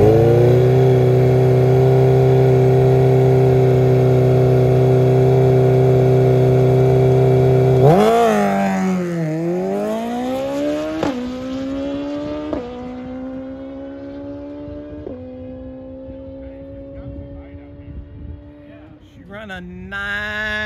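A 2022 Suzuki Hayabusa, back after a valve issue, idles steadily at a drag strip before its engine revs up hard and winds through rising gear pulls as it launches away, growing fainter into the distance.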